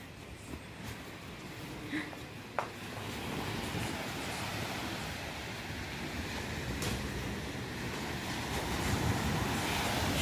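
Sea waves roll onto the beach at Cox's Bazar at night, a continuous, loud surf roar with gusty wind noise that swells slightly toward the end.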